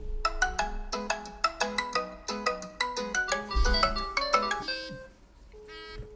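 A Masx Moss II smartwatch plays its ringtone for an incoming Bluetooth call, a bright repeating sequence of electronic melodic tones in quick rhythmic bursts, fairly close and clear, with no talking over it.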